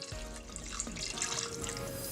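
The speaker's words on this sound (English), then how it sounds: "We're gonna add just a little bit more water," Water runs and splashes steadily into the metal pot of an Instant Pot pressure cooker over pork pieces, a brief close pour with a hollow, gurgling tone.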